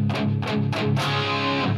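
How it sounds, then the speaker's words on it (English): Electric guitar chords through a Line 6 Helix preset, drenched in chorus and reverb, soft and washy with no sharp pick attack, a few strums blurring together. "These are so slathered in chorus and reverb, and there's no pick attack at all."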